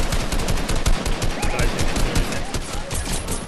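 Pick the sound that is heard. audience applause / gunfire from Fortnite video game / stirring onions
gunfire from Fortnite video game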